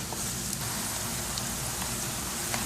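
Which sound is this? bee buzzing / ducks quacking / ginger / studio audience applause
ginger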